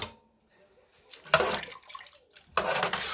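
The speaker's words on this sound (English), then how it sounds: "Okay, so I'm gonna start pouring the broth in here." Broth pours into a pot in two short liquid bursts of splashing and gurgling, close and moderately loud, with quiet pauses before and between.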